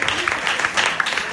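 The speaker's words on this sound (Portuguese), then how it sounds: "Pode aplaudir o Eterno" Congregation applauding at a family church service, steady dense clapping with some voices mixed in, close and fairly loud throughout.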